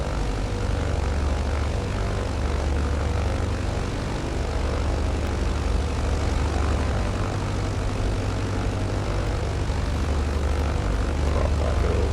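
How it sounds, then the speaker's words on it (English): A small propeller airplane taxiing along a taxiway toward the end of the runway, its engine giving a loud, steady, close droning hum throughout with no pauses. "Taking this taxiway all the way over to the end of the runway."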